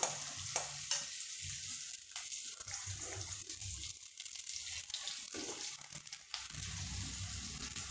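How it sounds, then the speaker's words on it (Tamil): Onions fry in a pan with a steady crackling sizzle, interrupted by several brief scraping stirs and knocks of a utensil, close and fairly quiet with no speech. "வெங்காயம் வதங்கட்டும்"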